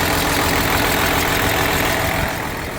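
Case 1570 tractor engine idling with a slight exhaust leak from a cracked elbow after the turbo, a steady, loud, close diesel rumble that holds even throughout and eases slightly at the end.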